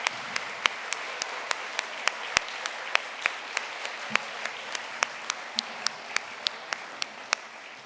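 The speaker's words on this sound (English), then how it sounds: "Please give a warm round of applause to these individuals" An audience at an alumni awards ceremony applauds past award winners, a steady round of many hands clapping in a large room, with a few sharp nearby claps standing out in a regular rhythm.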